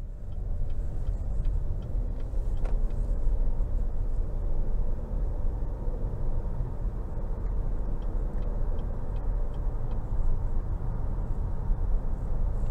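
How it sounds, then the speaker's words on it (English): A 2023 GMC Acadia Denali cruising on the road, heard from inside as a steady low engine and road rumble with faint ticking, continuous and even throughout. "let's go ahead and take this 2023 Acadia Denali out on the road for a quick test drive"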